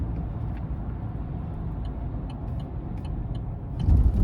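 A 2022 Chevrolet Silverado 1500 with a 2.7-liter four-cylinder turbo accelerates, heard from inside as a steady low engine and road rumble that swells near the end.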